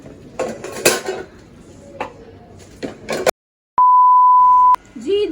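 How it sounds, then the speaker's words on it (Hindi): Cooking pots, pans and utensils being picked up and handled beside a clay stove in a home kitchen, with clattering and clinking in bursts, followed by a steady electronic beep. "तो ये बर्तन उठाओ बच्चियों।"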